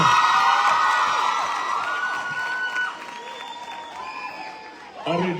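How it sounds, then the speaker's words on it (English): Congregation at a church gathering clapping hands and cheering, a dense wash of applause and high shouts that slowly thins before a voice speaks near the end. "Can you clap hands for the Lord?"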